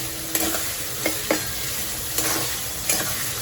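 Capsicum and other ingredients for pulao sizzle in a pan while a spoon scrapes and knocks against the metal every half second or so, close up with no voices.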